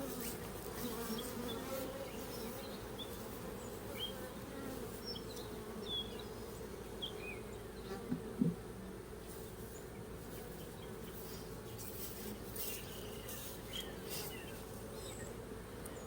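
A swarm of Russian honey bees buzzes around a hive in a dense, steady drone that holds evenly throughout, with a few brief louder bees passing close.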